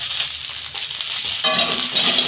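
Cauliflower pieces, salted and coated with turmeric, fry in oil and give a constant crackling sizzle, with a louder burst of bright spitting partway through as the pan is stirred.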